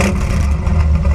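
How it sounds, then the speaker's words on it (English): Ford F100 turbo engine given a light rev, a steady close-up mid-range engine roar with low rumble holding throughout the short burst. "Go ahead and like barely rev it."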